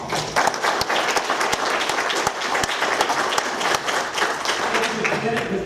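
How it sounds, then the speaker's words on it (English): An audience at a 2016 Ware County primary election forum for sheriff candidates applauds, a dense, loud and steady wash of many hands clapping that holds for several seconds, with some voices mixed in. "Let's have a round of applause."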